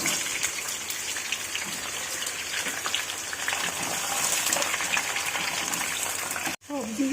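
Vegetables fry in white oil with whole garam masala and bay leaves for chicken soup, giving a steady, rain-like sizzle throughout. A person talks over it, and there is a brief dropout near the end.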